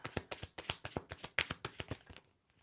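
Tarot cards riffled and shuffled by hand in a quick, close burst of crisp slaps and flutters, about a dozen rapid strikes that taper off into quiet.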